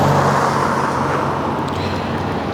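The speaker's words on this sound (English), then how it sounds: "Cars are coming" Road traffic on a college campus street, a loud steady rushing roar of cars passing close by, with no one talking.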